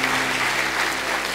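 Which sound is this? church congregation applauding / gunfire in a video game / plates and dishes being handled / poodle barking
church congregation applauding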